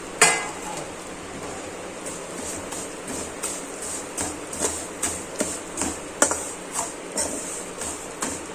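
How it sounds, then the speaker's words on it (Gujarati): Vermicelli (sev) roasting in ghee in a pan makes a steady, close sizzle broken by regular light taps and scrapes of a spatula against the pan. "સેવ છે તેને બે મિનિટ માટે સાતળી લેશું ઘીમાં શેકી લેશું"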